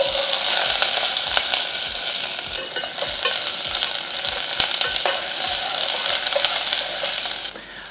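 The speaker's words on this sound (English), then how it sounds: "I'm adding a dash of olive oil, and I'll go ahead and add onions." Chopped onions sizzle in a dash of olive oil in a pan for a mushroom sauce, a loud, continuous hiss with scattered crackles and occasional stirring scrapes, no voices.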